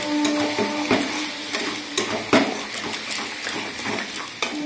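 Spices are stirred into a frying curry in a pan, with a constant sizzle under repeated scraping strokes and clinks of a spoon against metal, close up.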